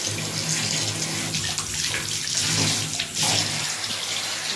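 Water runs steadily from a bathroom tap at the Gallery Hotel in Taiwan, a continuous close splashing rush with no pauses.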